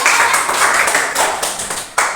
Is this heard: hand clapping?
yes